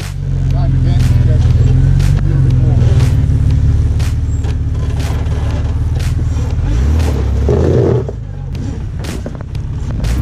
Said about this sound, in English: Aaron did say he wanted to test his Jeep out.